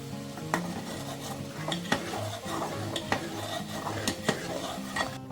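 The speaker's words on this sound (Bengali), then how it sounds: "দুধ জাল হচ্ছে, তার মধ্যে দুটো তেজপাতা দিয়ে দিলাম।" Milk with two bay leaves heats on a gas stove, a low bubbling hiss under repeated light clinks and scrapes of a utensil stirring against the pot.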